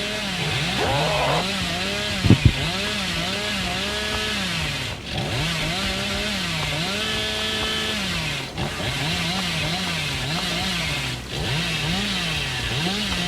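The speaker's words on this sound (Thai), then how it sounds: "เลื่อยหาคนเลย" The Hillbilly's chainsaw in Dead by Daylight Mobile revs loudly in a repeating rise-and-fall pattern, with a brief sharp clank partway through and short dips between the bursts.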